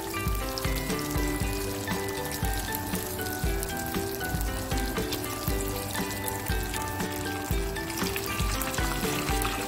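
Flour-coated chicken wings frying in hot oil give a steady, dense sizzle and crackle that runs unbroken and fairly loud for the whole stretch.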